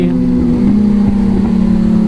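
A Kawasaki ZX-6R motorcycle engine idles loudly up close, then gives a quick short rev that rises and drops back to idle.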